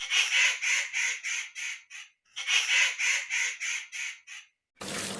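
A cartoon crow caws in two rapid bursts of harsh, repeated calls, loud and close, separated by a short pause, ending with a brief noisy thump.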